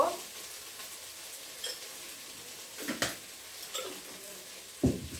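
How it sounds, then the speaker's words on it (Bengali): Ingredients for bhuna khichuri being stirred in a frying pot, with a soft sizzle underneath and a few scattered scrapes and clinks of the utensil against the pot, the loudest scrape near the end. "এখন একটু নাড়াচাড়া সুন্দর মতন দিয়ে মিশাই নেব"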